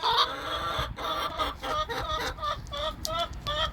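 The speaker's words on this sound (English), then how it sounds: "Oh, you're squawking. You're the noisy one." A chicken squawks and clucks repeatedly in short, loud bursts, close up, with a busy rhythmic pattern of calls.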